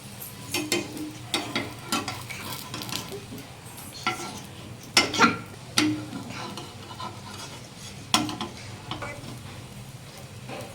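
A semolina chilla frying in a pan without oil, giving a soft steady background hiss broken by intermittent close scrapes and taps of a spatula as it is turned.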